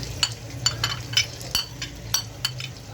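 Onions frying in about one to one and a half cups of oil, a steady soft sizzle punctuated by regular metallic clinks and scrapes of a spoon stirring in the pan, close and without talking.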